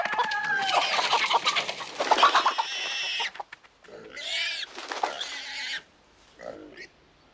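Frightened hens cluck and squawk in a panicked burst while a wild pig chases them at full gallop across a farmyard, loud and busy at first, then breaking into shorter agitated calls with pauses.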